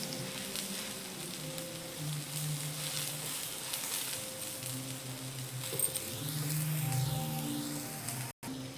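Batter-coated bread shallow-fries in oil in a pan over low heat, a steady soft sizzle with faint crackling close by and no talking.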